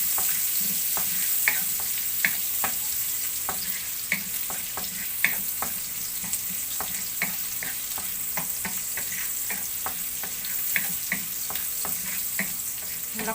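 Garlic fries in a pan with a steady, close sizzle and frequent small pops and crackles throughout, with no talking.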